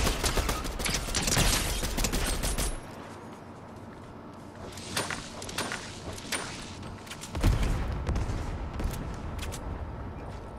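Gunfire in a Spider-Verse video game comes as a rapid, dense fusillade, with loud opening bursts, a quieter stretch of scattered shots, then another close volley, all without talk.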